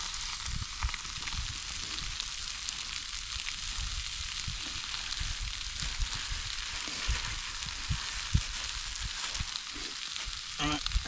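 Big sausages frying in a pan at a solo wild camp, a steady close sizzle and crackle with occasional pops and stirring.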